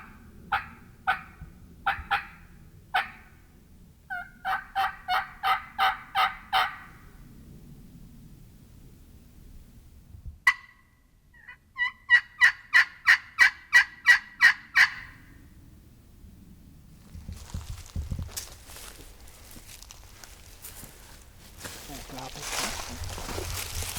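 Wild turkey gobbling on Oklahoma public land, several loud rattling gobbles in quick bursts, near and clear, with a stretch of rough wind-like noise toward the end.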